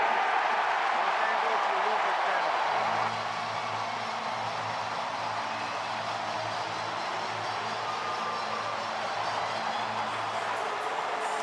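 A big baseball stadium crowd at a Dodgers vs Phillies playoff game roars after a replay review call. The cheering is a loud, steady wash of noise that holds for the whole stretch without fading.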